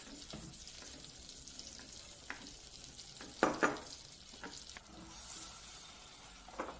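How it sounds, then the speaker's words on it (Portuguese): Butter melting in a pan while making a baked chicken pasta sauce, a soft steady sizzle with a few sharper crackles and utensil scrapes near the middle and end. "Aí vai derreter essa manteiga aqui"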